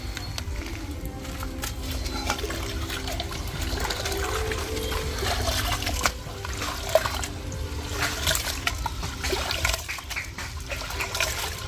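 Water sloshes and trickles steadily in a pot as glutinous rice is rinsed, a continuous wet swishing with occasional splashes, close and fairly loud, no talking.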